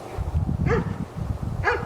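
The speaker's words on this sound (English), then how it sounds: "Now you're camping with Steve and a dog" A dog barks twice, about a second apart, close by at a winter tent campsite, with sharp, fairly loud barks over low rustling background noise.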